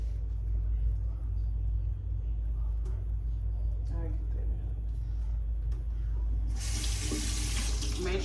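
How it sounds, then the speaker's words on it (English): Tap water runs steadily into a kitchen sink while vegetables are rinsed for hamburger steak with onion gravy, a continuous close splash over a low rumble, growing brighter and louder near the end. "Make sure y'all rinsing off your vegetables"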